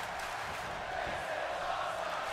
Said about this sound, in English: This is awesome chants from the crowd